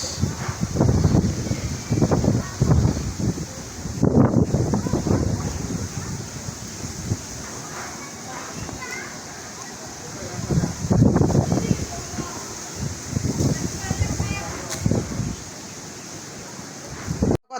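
Wind blows outdoors beside the water, a steady rushing hiss with gusts buffeting the microphone, while people talk intermittently over it.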